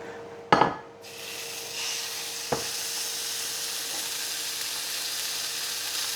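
M&S steak hitting a hot frying pan, an abrupt thud and clatter followed by a steady, moderately loud sizzle that carries on alone, with a second light knock partway through.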